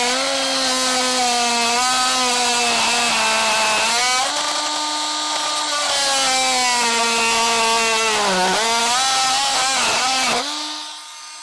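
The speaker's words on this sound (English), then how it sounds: "So I like to use a multi-tool to do this, but you can use a Dremel or whatever you got here." An oscillating multi-tool cuts during installation of a battery disconnect cable, giving a loud, high buzzing whine whose pitch dips and rises as the blade bites, then winds down at the end.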